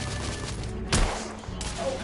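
Gunfire from shooting enemies in The Order: 1886, a single sharp loud shot cracking out near the middle against a dense, noisy battle backdrop, with a fainter burst of fire later on.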